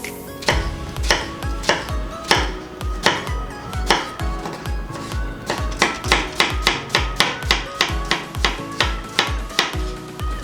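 A knife chops through half an onion on a board while prepping a chickpea chaat salad: quick, steady, close thuds repeating in an even rhythm with no talking.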